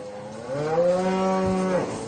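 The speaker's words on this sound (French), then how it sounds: "Et ces vaches sont malades." Black-coated cows on a farm near Fukushima, sick animals with white patches on their hides, give a single long, loud moo that rises and holds before fading, close by, with no talking.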